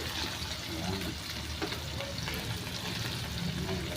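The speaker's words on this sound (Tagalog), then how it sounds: "At ilagay na natin ang ating fried hitok." Fried catfish being added to a pot of miso sinigang soup, with a steady dense sizzle and bubbling, a few stirring knocks, and faint talking underneath.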